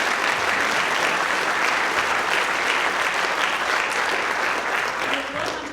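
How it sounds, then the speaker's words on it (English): Sustained applause from a large audience at a city Avenue of Heroes ceremony in Coronado, a dense steady wash of clapping that holds for several seconds before easing slightly at the end, with faint voices mixed in. "Can we get an applause for this set of folks?"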